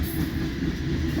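A loaded coal train rolling past, a close, steady low rumble of rail cars on track with no break across the short stretch.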